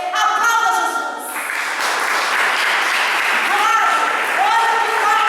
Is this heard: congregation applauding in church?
yes